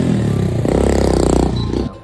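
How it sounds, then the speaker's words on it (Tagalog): A motorcycle engine revs loudly and close by, a thick, steady droning roar with a rough clattering edge that swells slightly and then cuts off abruptly near the end. "We have a motorcycle."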